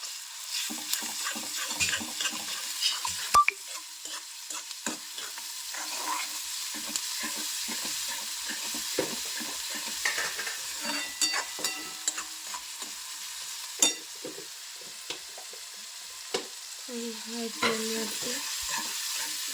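Garlic paste frying in a pan with a thin, steady sizzle and scattered scrapes and taps as it is stirred, heard close up for a long stretch with no voices.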